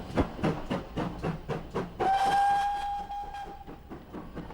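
The train carrying Churchill's coffin out of London in 1965 chugs with rhythmic, heavy steam exhaust beats, then a long, loud steam whistle sounds over the continuing puffs.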